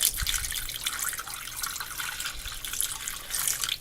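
Kombucha is poured over a pork roast in a pan, making a soft, steady trickling splash that stays fairly quiet throughout.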